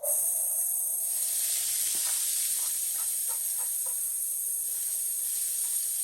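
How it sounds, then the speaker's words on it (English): Vegetables for a spaghetti sauce sauté in a hot pan, giving an even, continuous hiss and sizzle with a few faint soft clicks partway through, close up and with no speech. "Let those start to saute, break down, caramelize as they say."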